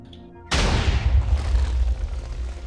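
A sudden loud boom from a fish cannon fired in the Minecraft video game, then a rumbling blast that carries on for about two seconds.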